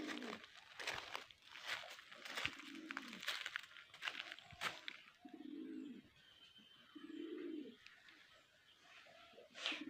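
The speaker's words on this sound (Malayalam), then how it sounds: "പ്രാവുകൾ വെള്ളം കുടിക്കണ കണ്ടോ" Pigeons cooing near a field while drinking water, several soft, low, rounded coos in a slow rhythm among chirps and small rustling sounds, fairly faint and close by.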